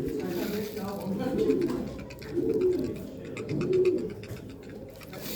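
Young pigeons coo in low, repeated throaty rolls, several overlapping bursts close by, with voices talking faintly in the background.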